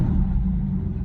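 A 1961 Jaguar E-Type with a fully rebuilt engine idles just after starting, a steady deep low rumble heard up close without talk.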